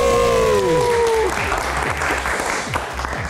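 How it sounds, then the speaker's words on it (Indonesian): A live studio audience gives a guest sustained, dense applause on a football talk show, beginning under a fading musical sting and continuing loud and even to the end. "Tepuk tangan untuk Bung Haryo."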